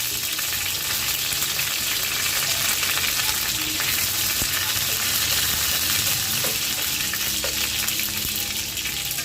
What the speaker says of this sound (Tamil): எண்ணெய் நல்லா காஞ்ச பிறகு அதில் கருவேப்பிலை போட்டுக்கணும்